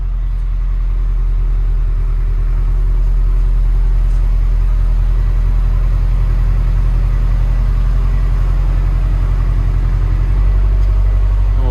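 A 2007 Subaru STI with its stock exhaust idles steadily nearby, a smooth, subdued low hum with no rumble and no talk over it.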